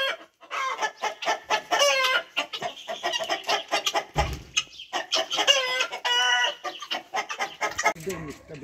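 Chickens cluck and squawk in a busy, overlapping chorus close by, with a few sharper calls rising above the steady flock chatter.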